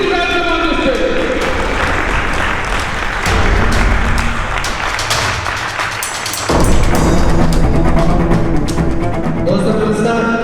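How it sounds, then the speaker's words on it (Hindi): Applause from an audience at an award function as a speaker is welcomed onto the stage, a steady dense patter of clapping throughout that swells louder midway and again near the end, with voices mixed in. "उनका जोरदार ताली से स्वागत करें"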